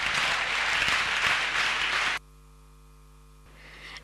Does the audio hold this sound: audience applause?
yes